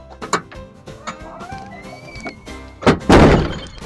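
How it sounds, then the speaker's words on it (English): Luggage bay doors on a 2014 Prevost H3-45 coach being shut, a couple of hard thunks and a heavier final slam, close and loud with faint clatter around them. "Shutting these doors, and we'll continue our walk around."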